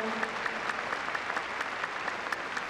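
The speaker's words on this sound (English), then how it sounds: "Give her a big round of applause as she leaves the arena" Applause at Crufts for a dog and handler after a heelwork to music routine: a dense, steady clapping from a large arena crowd, somewhat distant and sustained throughout the short stretch.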